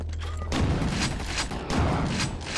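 A weapon fires in the shooter Quake 2, a series of loud, punchy shots in quick succession, each blast followed by a noisy, rumbling tail.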